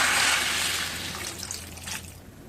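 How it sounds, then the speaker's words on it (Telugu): Water is poured into a pan of mango and cucumber curry, a soft splashing pour that tapers off over a couple of seconds, fairly quiet and close with no talk. "మగ్గనిచ్చిన తర్వాత వాటర్ అయితే యాడ్ చేయండి."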